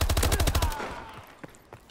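Rapid automatic gunfire from a weapon in Call of Duty: Advanced Warfare, a loud burst of closely spaced shots that stops abruptly, followed by a fading tail and a couple of faint distant pops.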